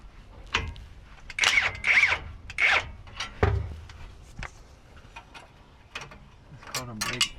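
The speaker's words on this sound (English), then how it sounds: "Yes, I'm using a chrome socket on the impact because I'm such a bad boy." Impact wrench fitted with a chrome socket loosening a brake line bracket bolt during a differential fluid change, heard as several short, rattling mechanical bursts close by with quieter clanks between them.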